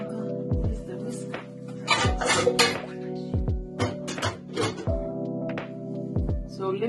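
A whisk repeatedly clinks and scrapes against a bowl of pancake batter in a home kitchen, in irregular bursts over a steady low hum.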